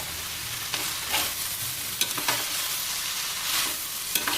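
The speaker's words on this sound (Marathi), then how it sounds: "अशा प्रकारे आधी आपली सर्व भाजी चांगली खालीवर करून परतून घेऊयात" Amaranth greens stir-fried in a pan for a Maharashtrian dal-and-greens dish, giving a steady close sizzle with repeated scraping stirs at irregular intervals and no talk.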